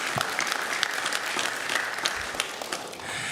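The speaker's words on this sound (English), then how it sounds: "let's give those Hardin Helpers another round of applause" A room full of people at a school board meeting applauding the Hardin Helpers, a dense steady round of clapping lasting a few seconds and fading out at the end, with no talking over it.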